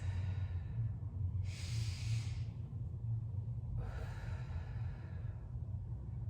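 Two deep bracing breaths during a core exercise, each a breathy rush of air about two seconds apart, heard close over a low steady rumble.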